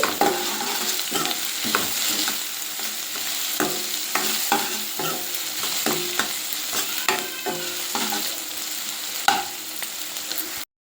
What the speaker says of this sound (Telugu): ఇందులో పుదీనా కరివేపాకు వేసి బాగా కలుపుకోవాలి